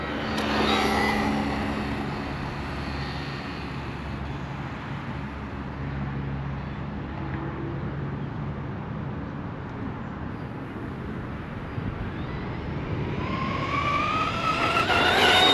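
A Traxxas Rustler 2WD VX3 RC car at full throttle, a high whining electric motor note that fades as it pulls away and then rises again as it returns, over steady outdoor background noise.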